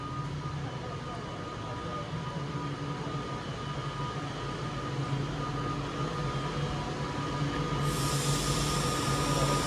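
Electric train pulling out of Stoke-on-Trent station bound for London Euston, a steady low rumble and hum that builds gradually, with a brighter hiss rising near the end as it gathers speed.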